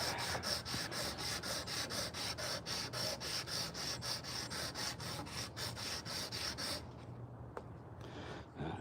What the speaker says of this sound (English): the old high-powered sander.